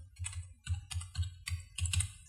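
Phone number keyed in on a computer keyboard during a Gmail sign-up, bursts of quick soft key taps in short rhythmic groups, close but quiet.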